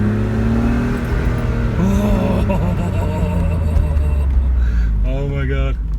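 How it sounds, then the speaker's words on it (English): BMW Z3 engine revving hard in 2nd gear, loud and close, with rising harmonic pitch sweeps as it accelerates; someone talks over the engine throughout. "it's by far the quickest car I've ever driven"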